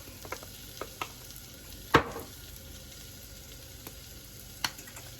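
Thyme and cayenne pepper are stirred into a quietly sizzling pan, with a soft frying hiss, a few light scrapes and one sharper clatter of the spoon against the pan.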